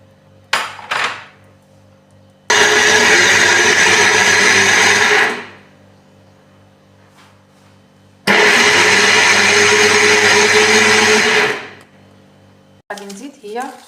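A kitchen blender whirs loudly in two sustained runs of about three seconds each, mixing basbousa batter with orange zest, salt, yeast and vinegar, with short clatters and handling noises between and around the runs.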